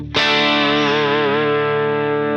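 A single electric guitar chord through an AC30 amp model on a Tonex rings out clean and unprocessed, struck once and sustaining with a slight wavering as it slowly fades.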